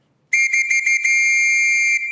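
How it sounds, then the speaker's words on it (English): A shrill police whistle from the Acme Whistle Company, blown in four quick chirps and then held as one long, steady, piercing blast that stays close and loud. "came up with the great idea of the whistle"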